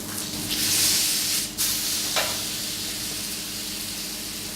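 Lamb sears in a hot pan with a continuous close sizzle, louder and crackling in the first second and a half, then a steady frying hiss, with a brief scrape partway through.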